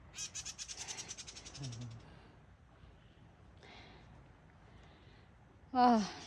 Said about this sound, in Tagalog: Ibon eh.